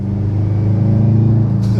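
A 2015-or-later Subaru WRX STI fitted with a Remark axleback exhaust idles loudly with a deep, steady rumbling drone, close and sustained, ending with a brief higher burst.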